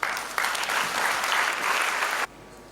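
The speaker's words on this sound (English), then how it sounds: "And one more round of applause for Dr. Leone." Loud audience applause fills a hall at a West African Examinations Council ceremony in Freetown, Sierra Leone, a dense, steady burst of clapping that stops abruptly after about two seconds.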